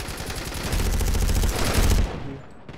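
Rapid continuous suppression gunfire in a video game, a dense loud burst of automatic shots lasting about two seconds before cutting off abruptly.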